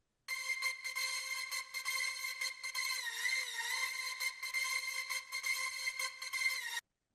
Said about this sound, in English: this kind of ravey synth, which on its own is a little bit grating